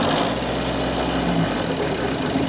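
A sailboat's engine idles steadily with a low, even rumble and slight knocking texture, continuous and moderately loud throughout with no talking.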